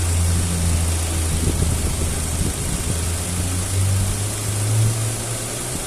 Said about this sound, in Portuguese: é a primeira vez que ligou a ventoinha agora